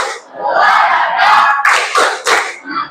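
Children clapping in a rhythmic clap chant at a school morning activity, loud close bursts of hand claps mixed with young voices shouting along, with sharp clustered claps toward the end.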